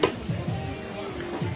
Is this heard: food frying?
yes